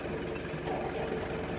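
Tractor engine running on a farm, a steady low rumble with a faint knocking throb, close and continuous with no talk.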